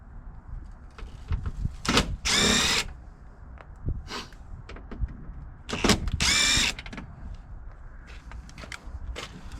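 Power drill running on the bolts of a car fender, two short, loud whirring bursts a few seconds apart amid clanks, rattles and handling noise.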